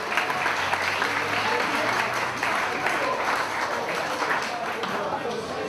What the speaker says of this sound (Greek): Ένα χειροκρότημα, παιδιά.